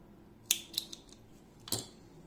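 Scissors snip through a crochet yarn end, two or three crisp close clicks of the blades with a quiet gap between them.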